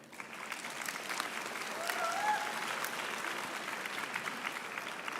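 A graduation ceremony audience at the University of the Free State applauds the graduates' supporters, with sustained crowd clapping at moderate level and faint voices mixed in.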